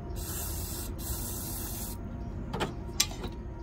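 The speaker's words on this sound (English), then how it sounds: "Spray it with brake clean." Two short hissing bursts of aerosol brake cleaner spray, the second sharper, close by against a steady background hum, while installing rebuilt injectors on a Mercedes 300D.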